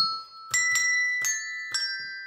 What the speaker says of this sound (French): Nous avons des petites cloches qui font des sons différents.